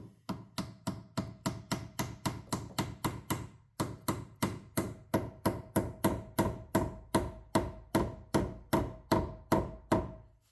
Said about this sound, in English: Then we're going to take this hammer.